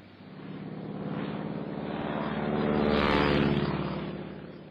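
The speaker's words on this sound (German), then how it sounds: "rollt das Flugzeug unter dem Kommando von Kapitänleutnant Edward McDonnell von der Plattform und fliegt" A British Sopwith F1 biplane's propeller engine drones as it takes off from the platform on the battleship USS Texas, swelling louder and then easing off, with no voices.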